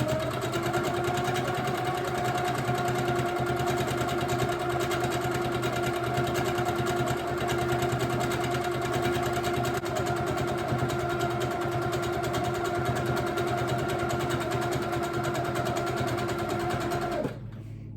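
A sewing machine quilting ice dyed fabric runs in a continuous, even mechanical hum and whir for most of the stretch, close and steady, then stops near the end.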